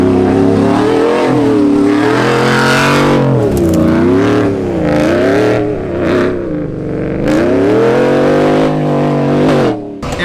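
Off-road truck with loose suspension, worn bushings and regraded hardware, driving on desert terrain: a loud, steady engine drone that rises and falls with throttle, close to the microphone, with no talking over it.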